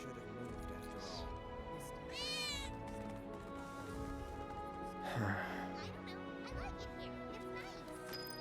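Cat meows in the Final Fantasy VII Remake video game, a few short mewing calls rising over game music and background sound, with a voice talking through part of it.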